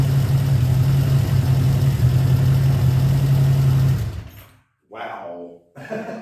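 A 1979 Honda GL1000 Goldwing motorcycle engine runs on a cold start with a steady low rumbling idle, close and loud, then cuts out abruptly, followed by short bursts of speech.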